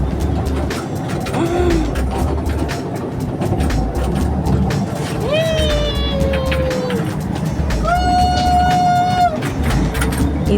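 A toy train ride at an amusement park runs with a continuous rolling rumble. Twice a person's voice imitates the train's hooting whistle in long held tones.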